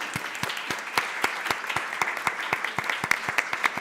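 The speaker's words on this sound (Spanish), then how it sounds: "Vamos a pasar ahora a aplaudir." Audience applause at a book presentation: a small group of people clapping steadily, with distinct individual claps in a quick, uneven rhythm close by, and no talking.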